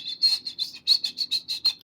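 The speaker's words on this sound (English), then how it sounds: "Goldcrest." Goldcrest singing a fast, very high-pitched series of about ten thin repeated notes in quick rhythm, close and clear, ending abruptly with no other sounds.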